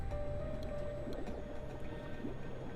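Water bubbling and gurgling steadily at close range, probably in a bathtub, with a continuous low churning and no talking.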